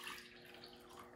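A cup of warm water poured into a bowl for naan bread dough, a faint, brief trickling splash heard on its own.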